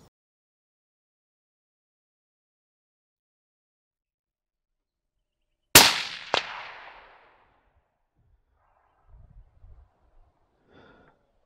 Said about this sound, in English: out comes the 260 Remington for a shot at 165 meters